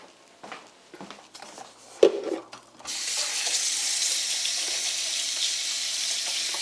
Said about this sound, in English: So I'll be off camera here while I'm getting hot water to add to the foot bath.